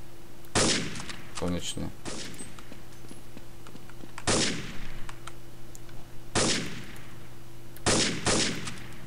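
Loud, punchy gunfire from Counter-Strike 1.6 comes in four or five separate bursts spaced a second or two apart, and a voice briefly says a word between shots.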